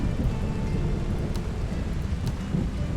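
Steady rain with a low rumble of thunder in the Tavern Master video game, a continuous, even wash of rainfall with no voices.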